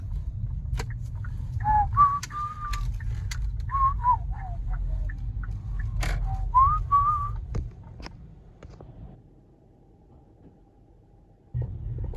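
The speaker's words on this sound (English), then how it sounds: "Or you can have your actors whistle" Someone whistles a short, bouncy melody over a low rumbling background; the tune stops partway and the rumble carries on alone.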